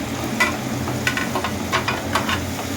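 Mustard paste and onion paste frying together in a pan while being stirred, a close sizzle broken by repeated scraping strokes of a spatula, no voices.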